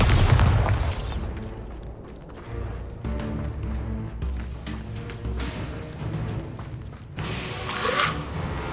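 A Bombarda blasting spell in Hogwarts Legacy gameplay erupts in a loud, deep explosion with a heavy low boom at the start, followed by rumbling debris and a second burst near the end.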